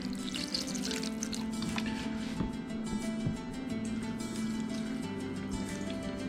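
Filtered water poured into a blender jar, a steady close trickling and splashing stream with small drips, running continuously at moderate volume.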